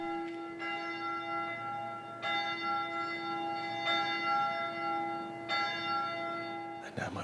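A 16th-century church tower bell rings at Lake Bled, sounding several slow, resonant strikes whose long humming tones overlap and decay, heard clearly at moderate distance over soft outdoor ambience.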